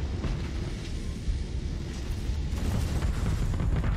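A missile strikes another missile in the space combat game Starsector, a dense, rumbling explosive roar that stays loud and steady for several seconds with no talking.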